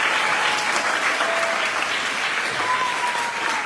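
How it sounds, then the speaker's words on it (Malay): A crowd claps steadily throughout, a dense, sustained round of applause at fairly loud level. "Satu tepukan untuk diri sendiri."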